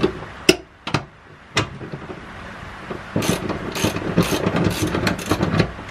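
Close ratchet clicking loosens bolts during a 5-puck clutch install on a Nissan 180SX, first a few separate sharp clicks and then a long fast steady run of ratcheting.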